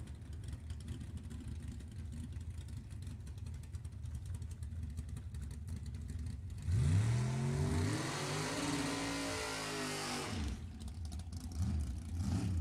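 Super Gas drag race cars launch in a final round, a burst of loud engine roar with rising, sweeping pitch that lasts about four seconds over a steady background hum, then fades as the cars pull away.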